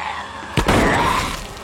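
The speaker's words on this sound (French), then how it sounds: "Avec les coups de feu, Dix va les retrouver." A single sharp gunshot from a Walking Dead episode cracks out loud and close, followed by a lingering noisy tail, standing alone without talk.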